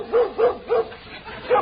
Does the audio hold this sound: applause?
no